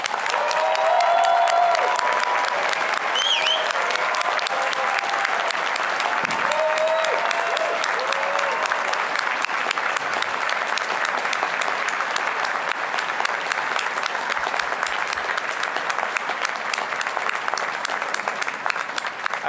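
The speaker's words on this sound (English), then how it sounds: "please join me in a round of applause for our new PhDs" Sustained applause from a large audience at an economics graduation ceremony honoring new PhDs, dense steady clapping filling the whole stretch with a few faint voices and cheers underneath.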